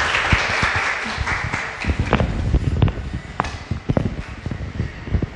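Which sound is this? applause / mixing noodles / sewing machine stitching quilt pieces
applause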